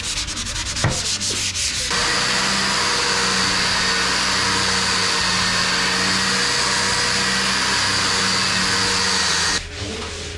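A power sander whirs loudly and steadily for several seconds against a plaster wall, starting after a few brief scraping knocks and cutting off near the end.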